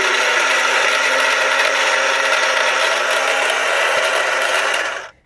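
A battery-powered toy runs with its wheels turning, giving off a steady, fairly loud mechanical whir with a slight grinding edge. The sound holds constant for about five seconds and then cuts off abruptly.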